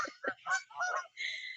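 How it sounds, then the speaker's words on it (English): Several geese honk in quick succession as they come in to land on water, loud and close, with harsh nasal calls rising into higher, sustained cries. "The geese."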